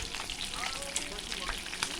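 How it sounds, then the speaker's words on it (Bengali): Crab frying in a pan gives a steady close crackling sizzle with tiny popping spatters. "আমার কাঁকড়া ভাজা প্রায় শেষ হয়ে আসছে"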